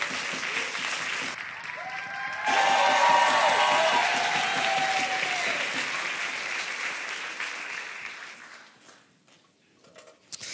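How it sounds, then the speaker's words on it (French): An audience at a French-language church gathering breaks into loud sustained applause with scattered cheers, swelling after a couple of seconds and then fading out near the end; a voice briefly speaks over it. "faites du bruit, s'il vous plaît, pour Céline."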